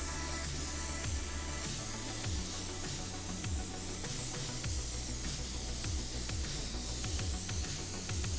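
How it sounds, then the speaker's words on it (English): DeVilbiss DV1 spray gun laying base coat on the back of a Chevy truck tailgate, a faint steady hiss of atomizing air with intermittent trigger pulls and low background rumble, no talking. "I really enjoy spraying base with this gun"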